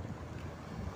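Strong outdoor wind buffeting a microphone near water, a continuous low rumble and rushing noise with no voices, heard alone for about a second.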